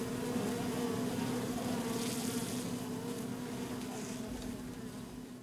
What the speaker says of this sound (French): on les entend bourdonner